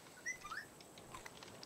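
Faint chirps and squawks from a bird attacking in the survival game Raft, a few quick high calls early, then soft pattering.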